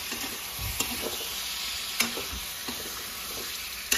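Mutton and potatoes frying together in a pan make a constant close sizzle, punctuated every second or so by sharp scrapes and knocks of a stirring spoon against the metal.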